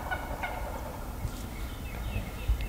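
Wild turkeys gobbling in the spring morning after fly-down, several rolling gobbles from birds at middle distance over steady outdoor background noise, with no talking.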